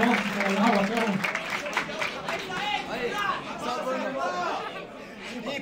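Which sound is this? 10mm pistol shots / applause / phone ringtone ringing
applause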